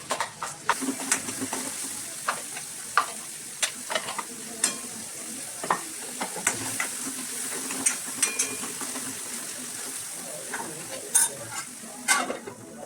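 Finely chopped onions frying in hot oil, a steady sizzle with frequent clinks and scrapes of a spoon stirring in the pan, close and continuous.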